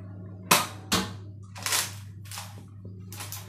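Several quick pops from a Nerf foam dart gun firing, two close shots then a few more spaced out, each with a short rattling tail.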